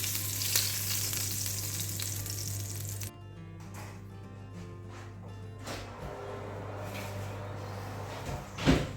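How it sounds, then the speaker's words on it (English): Lamb chops cooking under a kitchen grill give a steady, close sizzle and fry hiss with a constant hum underneath, broken by a few clatters and a sharp knock near the end. "Now I'm just going to finish my lamb chops under the grill for another 2 minutes"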